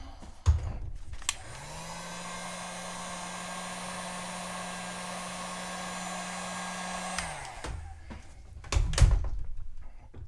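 A heat gun warms the adhesive holding an iPhone 6 charging port, its fan switching on with a click and blowing a steady, close whirring rush for about six seconds before winding down, with handling thumps before and after.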